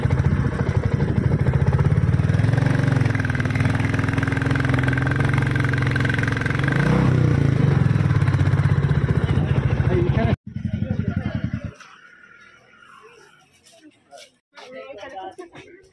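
A motorcycle engine runs loud and steady up close for about ten seconds, then cuts off abruptly, leaving faint clatter and quiet talk behind.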